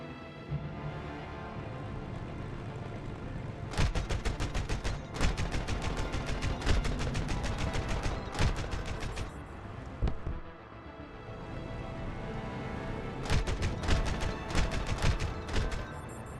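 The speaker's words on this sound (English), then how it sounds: "look at the damage that these 50 cals do" Heavy .50 caliber machine guns fire in a video game aerial dogfight, loud sustained bursts of rapid gunfire repeating in several volleys over a constant engine drone.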